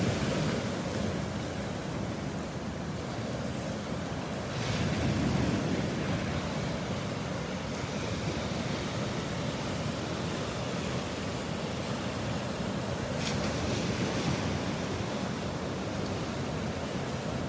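Ocean waves wash onto a beach in North Naples, Florida, a continuous broad roar of surf with swells building and receding, mixed with wind buffeting the microphone.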